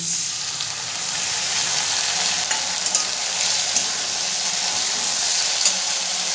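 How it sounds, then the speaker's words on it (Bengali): Ginger-green chili paste and ground cumin sizzle with fried winter vegetables for a vegetarian khichuri made with parboiled rice, a steady hissing fry with a few light stirring clicks, close and continuous with no talking. "মশলাটাকে আমি ভালো করে কষিয়ে নেব।"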